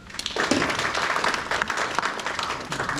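An audience at a parliamentary policy forum on redevelopment breaks into applause, building quickly after a brief quiet start into a sustained, dense round of clapping.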